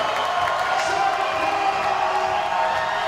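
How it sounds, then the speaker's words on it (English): A Canadian crowd at a bouldering World Cup semi-final in Toronto roars and cheers continuously, a dense wall of voices and whoops that stays loud throughout. "The Canadian crowd are going crazy"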